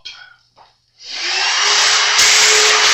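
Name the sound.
vacuum cleaner sucking up fret-levelling debris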